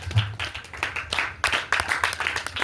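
A church congregation claps during a Sunday service, a loose scattering of hand claps that grows into quicker, denser applause, close and moderately loud.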